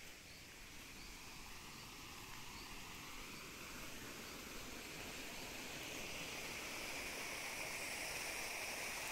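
A countryside ranch stream runs steadily with a broad, constant rushing wash of water that swells slightly louder toward the end, and no voices are heard.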